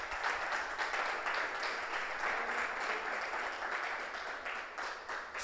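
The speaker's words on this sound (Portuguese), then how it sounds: "Aplauda o Senhor em nome de Jesus." A church congregation at a family service applauds in a sustained, even wash of clapping. It sounds somewhat distant and soft, with no talk over it.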